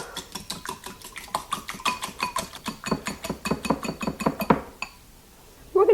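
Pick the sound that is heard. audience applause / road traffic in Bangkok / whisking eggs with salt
whisking eggs with salt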